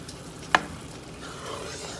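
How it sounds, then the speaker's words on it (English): Gravy gets stirred in a hot pan: a soft, steady sizzle with scraping movement and one sharp clink of the utensil against the pan near the start. "Go ahead and mix that in."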